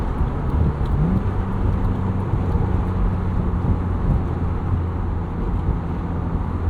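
Engine of a 1999 BMW Z3 M Roadster droning steadily from inside the cabin while driving, with pitch climbing and dropping through unhurried gear shifts, loud and continuous with road noise underneath.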